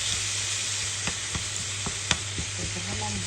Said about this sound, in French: revenir à feu fort notre poulet. Pendant quelques minutes avant de l'intégrer du coup à la sauce qu'on a préparée.